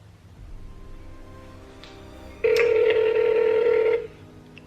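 A quiet electronic tone followed by a loud, steady telephone ring-back tone lasting over a second, then cutting off.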